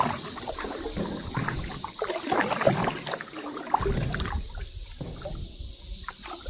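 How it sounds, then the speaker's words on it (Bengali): Kayak paddles dip and splash steadily through calm water in a quiet mangrove forest at Ao Thalane, Krabi, a close, continuous wash of small splashes and trickles with no one talking. "প্যাডেলে পানির শব্দ"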